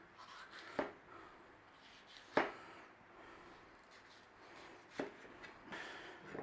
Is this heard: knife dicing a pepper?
yes